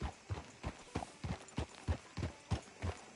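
A horse's hooves clip-clop at a steady walking pace in the Red Dead Redemption 2 video game, about ten evenly spaced hoof falls, fairly quiet, with no talk over them.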